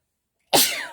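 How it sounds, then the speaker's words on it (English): A single abrupt sneeze bursts out after half a second of silence, loud and close, with a sharp onset and a breathy, hissing tail. "I'm going to sneeze."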